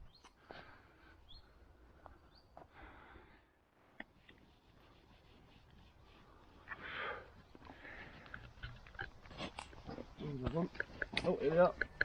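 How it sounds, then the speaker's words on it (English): Pigs on a farm, several of them, giving soft snuffling sniffs and low grunts that grow louder and busier toward the end, with people talking nearby. "There's pigs."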